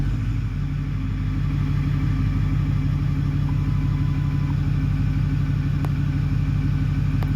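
Ford 6.4L diesel truck engine idling steadily after starting, a continuous low rumble with a faint ticking, close and unchanged throughout, with no voices.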